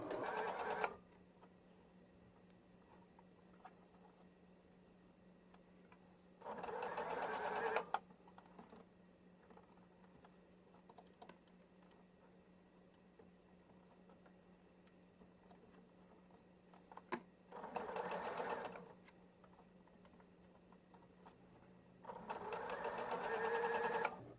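Sewing machine stitching stretchy fabric for a headband, heard in three separate bursts of fast rhythmic clatter, close and moderately loud, with quiet pauses between them.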